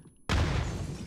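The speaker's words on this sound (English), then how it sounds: "There's a second grenade." A grenade goes off in a first-person shooter game: silence, then one sudden loud blast with a rumbling low-end tail that lingers and fades over the following second.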